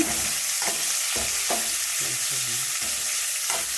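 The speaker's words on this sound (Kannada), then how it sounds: "ಈರುಳ್ಳಿ ಹಾಕ್ಕೊಂತೀನಿ ನಾನೀಗ" Chopped onions sizzle and fry in a hot pan with spices for a rustic-style kushka, while a utensil stirs them in repeated scraping strokes over a steady, close frying hiss.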